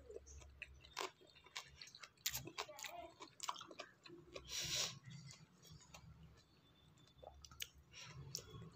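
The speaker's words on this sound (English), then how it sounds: "And this one is very crunchy." Crunchy pani puri being chewed close up, a run of irregular crisp crunches and bites spread across the stretch, with mouth noise and quiet background sounds.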